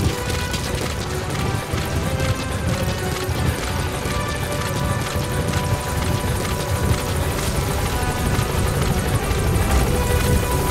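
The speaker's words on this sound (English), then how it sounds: "Support helicopter has arrived." A support helicopter in Metal Gear Solid V: The Phantom Pain hovers close by, with a loud, continuous rotor chop and turbine roar that stays dense and steady throughout.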